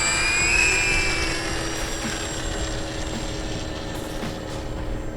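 A Hobbyking 1600mm C-47 / DC-3 twin-engine RC model plane revs up for takeoff, a steady droning whine of its motors and propellers, loud and close at first, then easing slightly as it pulls away.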